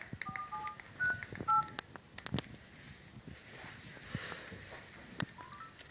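A telephone number being dialed with DTMF keypad tones: a quiet sequence of short, evenly spaced beeps over faint background hiss and scattered clicks.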